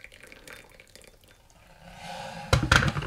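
Warm water poured into a gaiwan and teacup while preparing gong fu tea: a soft trickle builds, then a louder splashing pour near the end, close and alone.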